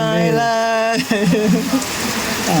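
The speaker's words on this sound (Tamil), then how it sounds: "மழை பயங்கரமாக பெஞ்சிட்டு இருக்கு." Heavy rain pours steadily at a hometown festival, a dense, constant hiss throughout, with a tonal voice or music briefly riding over it in the first second.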